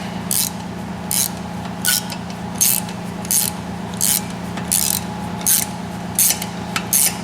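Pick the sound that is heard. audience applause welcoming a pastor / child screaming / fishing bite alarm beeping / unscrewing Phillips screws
unscrewing Phillips screws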